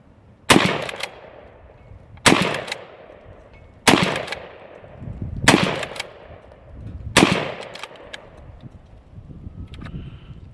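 A Fear 109 pump-action shotgun fires five loud, sharp blasts at roughly even intervals outdoors, each followed by a fading echo.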